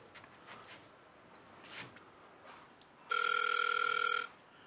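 A telephone on speaker gives one steady electronic ringing tone lasting about a second, preceded by soft shuffling and handling noises.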